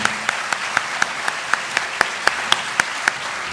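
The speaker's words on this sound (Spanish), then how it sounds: "Merecido y fuerte aplauso entonces para Facundo Manes." Audience claps for Facundo Manes at his inaugural lecture at the third CIC international scientific congress, sharp claps falling in a steady, even rhythm about four per second over quieter background clapping.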